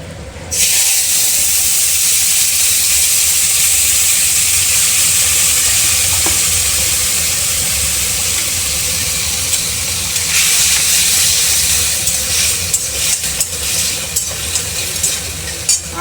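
Dried red chili and panch phoron tempering sizzling hard in hot oil for a chutney, a loud, continuous close-up hiss that holds steady for the whole stretch, with slight crackle toward the end and no voices.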